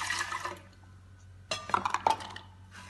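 Water is poured into waffle batter for salty pork waffles, splashing and trickling in short bursts with faint clinks of a bowl, quiet and close.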